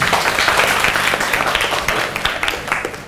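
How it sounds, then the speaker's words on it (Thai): Classroom applause during an active-learning lesson, with students clapping in a loud, uneven patter that carries on steadily throughout, with no clear voices. "อ่าปรบมือหน่อย"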